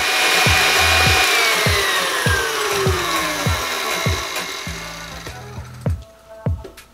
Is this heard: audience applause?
no